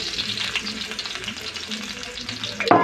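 Steady sizzling and crackling of garlic frying in hot oil, close up, with a brief clatter near the end.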